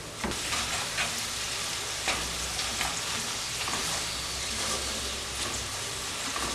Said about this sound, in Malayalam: ലോ ഫ്ലെയിമിൽ വെച്ച് തന്നെ മൂപ്പിച്ചെടുക്കുക